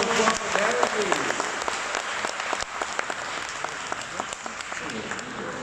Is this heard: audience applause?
yes